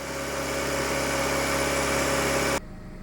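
A Ford Focus with 215,367 km idles with its air conditioning running, a steady low hum and a whirring fan or compressor drone, then the sound drops off abruptly near the end.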